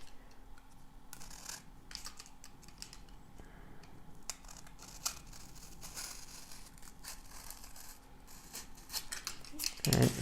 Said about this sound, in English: Just fold the foam on 180 degrees and you can cut